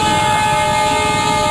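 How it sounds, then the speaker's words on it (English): Approaching train at Bikaner, India, in November 2009 sounds a long, loud, unbroken horn blast that fills the whole moment, close and overpowering, with no voices heard. "That's the sound of the train coming."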